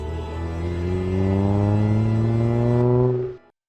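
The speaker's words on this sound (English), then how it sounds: "we hear Shunsuke's bus arrive and drive off" A bus in the video game RE:Kinder arrives and drives off, its heavy engine droning loudly, pitch rising steadily as it pulls away, then the sound cuts off abruptly.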